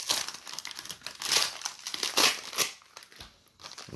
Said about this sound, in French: On est en train de tout déballer, mais on arrive.